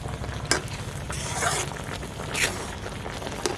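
A spoon stirs meat and flour cooking in a pot, with a steady sizzle under several scraping strokes and brief clinks against the metal, close and even, no talk.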